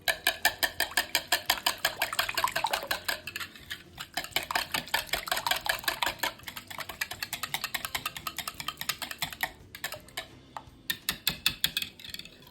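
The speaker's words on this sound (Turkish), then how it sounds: "Şimdi yapmış olduğum karışımı bir güzel çırpıyorum." An egg mixture is whisked briskly in a bowl, a fast run of sharp metallic clinks and scrapes that stays close and loud, with a few short pauses.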